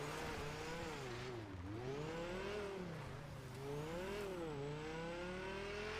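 A car in the video game GTA drives along steadily, its engine humming and shifting pitch as it speeds up and eases off, a continuous close drone with no voices over it.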